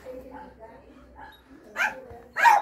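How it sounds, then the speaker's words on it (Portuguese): Small dog barking nervously and angrily, two sharp yappy barks near the end after a stretch of quieter whimpering sounds, close by. "O cachorrinho tá bem nervoso, bem bravo"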